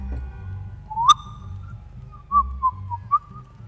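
A person whistles a few short notes, including a quick upward swoop, inside a car over a low rumbling engine hum.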